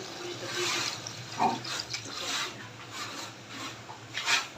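Chicken pieces are stirred and scraped in a cooking pan, giving soft rubbing and scraping strokes with a moist, wet texture, close and fairly quiet with no talking.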